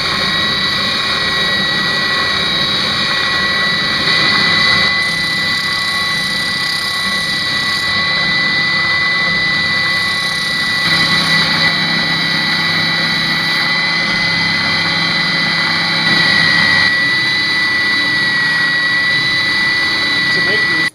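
A spindle sander shaping a homemade wooden tree spile gives off a loud, steady high-pitched whine and motor drone that holds evenly throughout, with someone talking over it.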